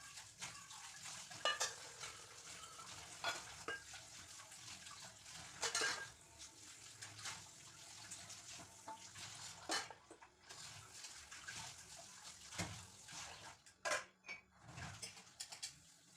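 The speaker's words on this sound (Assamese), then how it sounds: "এতিয়া বাচন কেইটামান ধুবলৈ আছে" Dishes are washed under running water at home, with a soft steady stream, scattered clinks and knocks of utensils, and fairly quiet, close splashing.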